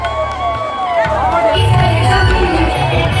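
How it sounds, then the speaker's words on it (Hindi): A crowded fair market during a cultural program, dense hubbub of many voices with shouting children and cheering, plus tonal music or announcements drifting over the steady, loud crowd noise. "मार्केट में तो बहुत भीड़ है भाई।"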